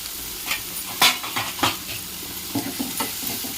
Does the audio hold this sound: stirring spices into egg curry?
yes